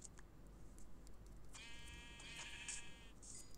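A Minecraft sheep bleats in a clear, buzzy, wavering call that starts midway and lasts over a second, heard over a low steady background hum.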